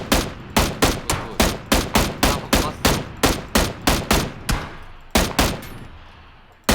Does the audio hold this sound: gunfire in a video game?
yes